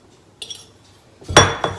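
A fork mixing butter, flour and sugar in a bowl, heard as two close metallic clatters: a light tap early on, then a louder, longer scrape and clink near the end.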